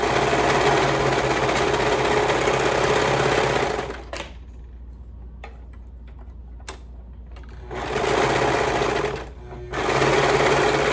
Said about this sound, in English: We'll sew that up with a 1/2 inch seam allowance again.